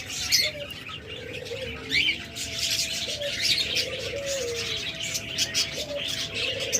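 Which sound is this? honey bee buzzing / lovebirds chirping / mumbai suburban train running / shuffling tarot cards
lovebirds chirping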